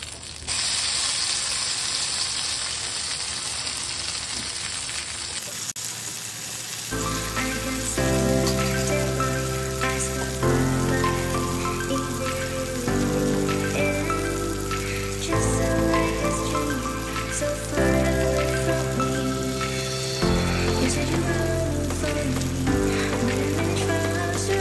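Bombay duck (bombil) fish frying in a pan on its second side. A steady hissing sizzle plays alone at first, then continues beneath loud music for most of the clip.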